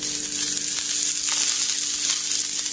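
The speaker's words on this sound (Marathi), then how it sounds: "तेल घालून मी आता हा कांदा लालसर होईपर्यंत परतवून घेणार आहे" Chopped onion frying in oil in a pan, giving a steady, close hiss of sizzling that stays even throughout, with no voices.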